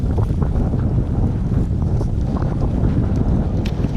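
Steady, heavy wind buffeting the microphone by the Alabama River, a constant low roar with gusty rumble throughout and no voices.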